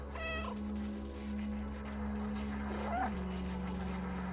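Player-triggered meow of the cat character in the video game Stray, one short harmonic cry near the start and another near the three-second mark, over steady game ambience and a low background hum.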